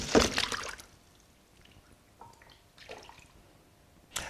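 In a tsunami model tank, water is displaced from above with a sharp splash. Softer sloshing and trickles follow, and a second splash comes at the end.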